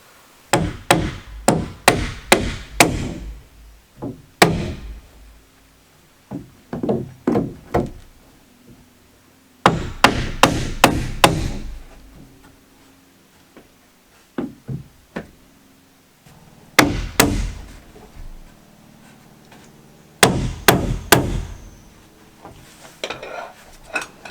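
A hammer taps nails into wooden rafters on an off-grid cabin build, in fast bursts of sharp blows separated by pauses, close and crisp with no talking.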